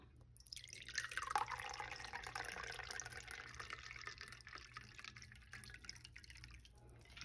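A cranberry vodka cocktail pours into a martini glass in one steady, soft trickle of liquid that lasts several seconds with no talking.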